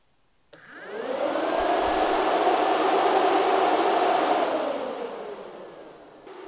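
A radiator cooling fan mounted in a custom shroud over a dual-pass radiator on a mid-engine Metro kicks on suddenly. It roars with a steady airy rush, then begins to wind down near the end.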